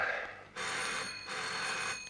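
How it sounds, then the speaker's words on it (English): An old telephone rings inside an office in bursts of electric bell trills separated by a short gap, clear and moderately close, with no one speaking. "Then a telephone started ringing inside one of the offices."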